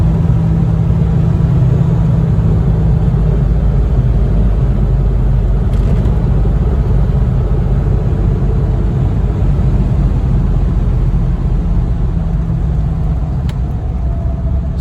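A 1954 Chevrolet Corvette with a six-cylinder engine drives along, its steady low rumble and road noise holding continuously from start to finish without any talk.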